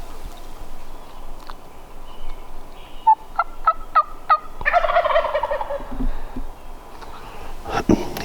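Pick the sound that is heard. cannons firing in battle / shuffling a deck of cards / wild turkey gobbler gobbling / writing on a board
wild turkey gobbler gobbling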